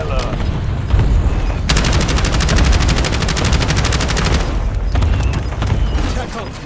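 Shotgun fire in a video game: after a brief stretch of game noise, a dense, loud run of rapid repeated blasts lasts about three seconds before easing back into quieter background sounds.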